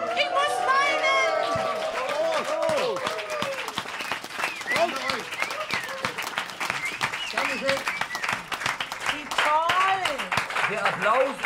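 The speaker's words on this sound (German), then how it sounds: "Der Applaus ist des Künstlers Brot" A studio audience on a German late-night TV talk show claps steadily and loudly through the whole stretch, with whoops, laughter and voices calling out over the applause.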